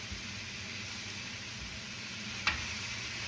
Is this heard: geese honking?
no